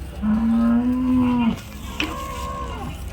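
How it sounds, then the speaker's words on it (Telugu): At a cattle market in Punganur, a cow gives a long, loud low moo, and after a short pause a second, higher bellow follows, with a busy outdoor background behind them. "ఆవులు దూడలు అన్నీ ఆవులు దూడలు"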